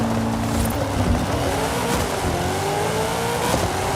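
A Pontiac Firebird Trans Am on a drag launch in Forza Horizon 5, with a loud engine roar climbing steeply in pitch as it accelerates, sweeping upward through gears with tire noise underneath, no voices.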